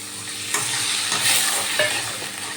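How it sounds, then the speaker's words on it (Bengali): Water poured into a hot pan of potatoes and spices frying in oil, giving a steady close sizzle with a few sharp splashes and clatters, no voices. "এরপর দিয়ে দিচ্ছি জল।"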